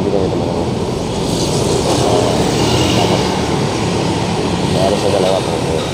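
A Transjakarta bus on a heavy truck chassis rumbles past in the street, a loud, steady engine roar lasting the whole stretch.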